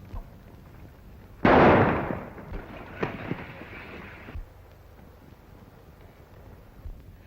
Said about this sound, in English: Shoot the gun out of his hand, Marshal